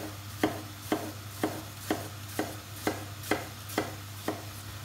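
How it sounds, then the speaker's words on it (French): A knife cuts through apples on a board for an apple tart, nine crisp, evenly spaced chops in a steady rhythm, close and clear over a low background hum, with no talking. "Pour couper les pommes, je fais comme ceci."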